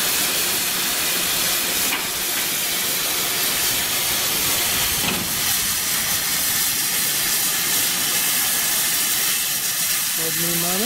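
A steady, loud hiss of steam from a steam train runs throughout, broad and continuous, in windy weather, with a brief whistle-like tone rising near the end.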